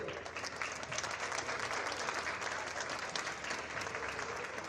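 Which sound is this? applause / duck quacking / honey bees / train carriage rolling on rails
applause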